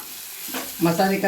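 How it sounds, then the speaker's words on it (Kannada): Whole spices and homemade chilli masala frying in a little hot oil for a tempering while being stirred, cooking Karabyali; the sizzle swells from quiet to a close, louder crackle with stirring noises. "ಸ್ವಲ್ಪ ಎಣ್ಣೆಗೆ ಫ್ರೈ ಮಾಡ್ಕೊಳ್ತೀನಿ ಎಲ್ಲ ಇವನ್ನ ಒಗ್ಗರಣೆ ಜೊತೆಗೆ."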